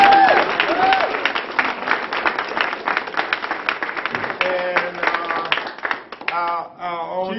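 An audience at a Tuskegee gathering breaks into a sustained round of applause, dense clapping that swells and then thins out, with voices and cheers rising over it toward the end.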